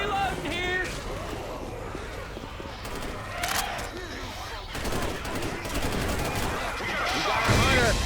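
Rapid gunfire bursts from the Left 4 Dead 2 video game in the Dead Center campaign, continuous crackling shots layered under character voices and game noise.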